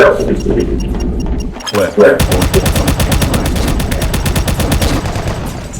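Shotgun blasts from the Doom video game ring out in a rapid series of sharp, loud reports after a brief pause, crowding together near the end.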